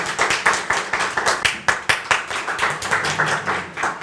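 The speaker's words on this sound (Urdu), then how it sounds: "بھرپور تالیوں سے استقبال کیجیے اسلم کمال صاحب کا" Audience clapping warmly for calligrapher and painter Aslam Kamal at an Iqbal Academy calligraphy prize ceremony, a steady rattle of many hands with a few louder claps, close and continuous and free of voices.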